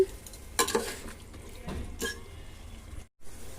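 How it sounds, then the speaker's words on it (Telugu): Mutton stirred in a pot for biryani, with a few close scraping strokes and clinks of the spoon against the pot over a faint sizzle, then a brief pause. "మటన్ మొత్తం వేసేస్తున్నాను వేసేసి బాగా కలుపుతున్నాను"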